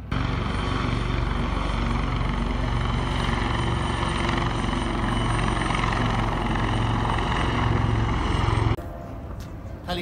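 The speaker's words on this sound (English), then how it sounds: "Helicopters as well." A helicopter flies near the aircraft carrier HMS Queen Elizabeth as it arrives at Portsmouth, a loud continuous rotor thrum and turbine whine held steady for several seconds before cutting away abruptly near the end.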